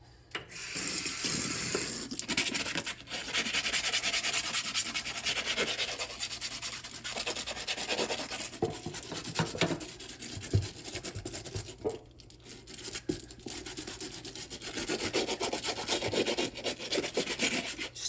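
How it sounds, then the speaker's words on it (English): A stiff brush scrubs a Yeezy sneaker up close in a steady, continuous rasping rhythm that runs with little pause, with no talking. "Hit it with a stiff brush first."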